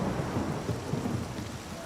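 A rainy night in a video game, with steady rain and a low, continuous rumble of thunder filling the whole stretch, dense and enveloping, with no talking.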